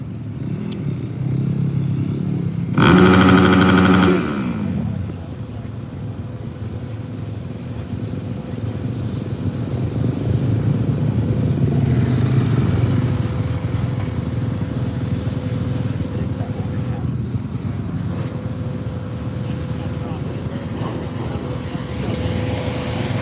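A supercross motorcycle engine revs at the Daytona soundcheck, loud and close with a sharp burst early on, then a sustained droning rumble that rises and falls, with a faint voice over the noise.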